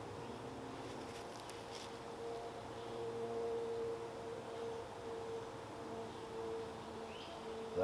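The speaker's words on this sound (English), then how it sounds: "That right there, that's the sound of a queenless hive." Steady low hum of a queenless honeybee hive, a faint continuous drone with a few soft higher tones drifting over it and no speech.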